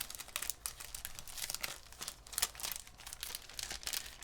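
Cellophane wrapping on a junk journal kit being pulled open by its tab, giving close, faint crinkling and crackling in quick irregular bursts, heard alone.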